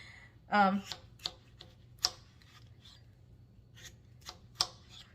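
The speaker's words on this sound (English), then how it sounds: "I'm going to slice these up and dice it, chop it up into little bite-sized pieces" A knife cuts smoked sausage into small bite-sized pieces for a kraut casserole, giving scattered, light, sharp taps on a cutting board with quiet gaps between strokes.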